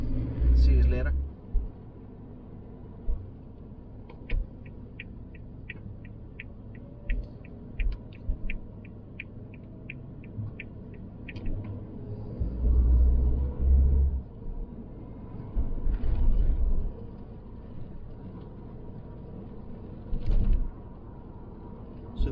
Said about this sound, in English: But there's definitely a lot more traffic on the road at the minute.